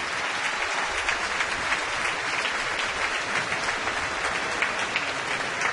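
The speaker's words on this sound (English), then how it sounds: "as you can hear the crowd" Dense, steady applause from a large baseball stadium crowd at a White Sox vs. Phillies game, sustained and loud throughout with a broad wash of clapping and no pauses.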